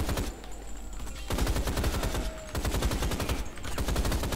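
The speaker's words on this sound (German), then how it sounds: "Wir schießen weiter Nazis über den Haufen." Rapid automatic gunfire rattles in bursts while enemies are shot in the first-person shooter Rise of the Triad. Dense, loud volleys come in three stretches separated by brief pauses, with no talk over them.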